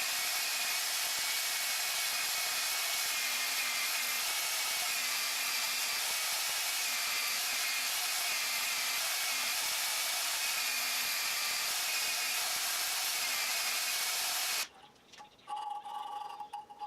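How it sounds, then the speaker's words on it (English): A bandsaw cuts a slot in a round tube for a center finder, producing a steady, close whirring hiss that holds for about fourteen seconds, then stops abruptly into quieter handling noises. "Now we'll take it over to the bandsaw and cut that slot."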